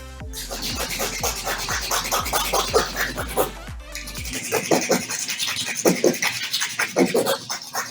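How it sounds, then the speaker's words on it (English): A nail file rasps back and forth across a plastic press-on nail in quick, even strokes, close and fairly quiet, with a brief pause partway through. "It's okay to go back and forth with a nail file."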